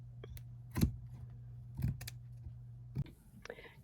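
Scissors snip through a paper pattern piece for a stone alien craft, three sharp crisp cuts spaced about a second apart over a low steady hum.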